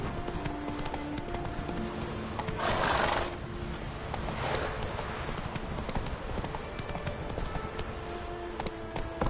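Horse Roach walking on a PS4 game, hooves clip-clopping in a steady rhythm with a brief louder stretch of steps, heard close over continuous game ambience.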